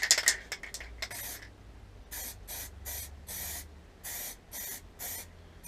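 A spray gun lays clear coat on a Suzuki Bandit 1200 motorcycle fairing and bellypan in short hissing bursts, a rapid cluster of quick blasts followed by longer evenly spaced passes, close and clear.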